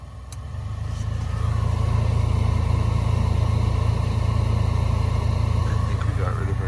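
The cabin blower motor of a Toyota FJ Cruiser, just cleaned out, runs as a steady low whir that ramps up in the first second and then holds even and continuous.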